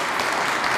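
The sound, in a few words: audience applause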